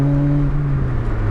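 A supercharged Lotus Elise driven with the roof off, its engine note a steady, droning hum with a slowly falling pitch as the car eases off, close and fairly loud with no talk.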